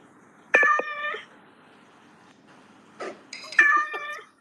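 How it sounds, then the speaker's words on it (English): A pet cat meows twice, the two calls close and fairly loud with a short gap between them, over a quiet room background with no talk. "My cat, Pat"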